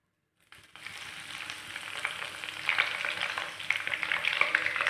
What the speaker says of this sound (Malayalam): ഞാൻ ഇതിലേക്ക് ആദ്യം കുറച്ച് കറിവേപ്പിലാണ് ഇട്ട് കൊടുക്കുന്നത്.